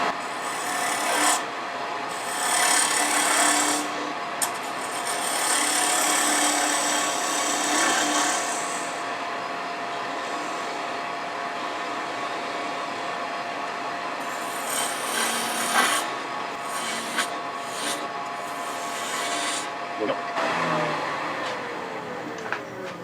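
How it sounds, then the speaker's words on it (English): A 3/8 inch spindle gouge cuts scrap wood spinning on a lathe, making a loud, close, continuous scraping rasp that rises and falls in long passes with short breaks, and no talk. "So I'm going to use my 3/8 inch spindle gouge."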